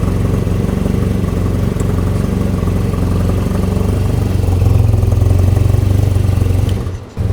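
A motorcycle with carbon fiber wheels runs close by, its engine holding a loud, steady throbbing idle with a slight lift midway before cutting off abruptly near the end.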